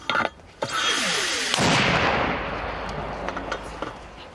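Mortar round bursting close to a frontline mortar crew position on the Vuhledar axis in Ukraine: a sharp near blast followed by a long, loud rumbling roar that slowly fades, with smaller cracks around it.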